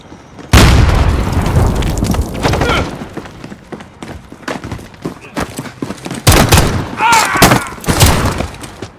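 Cruise missile strike in a Call of Duty match: a heavy boom erupts, followed by rumbling blasts and scattered gunfire thuds, with a voice talking over the action.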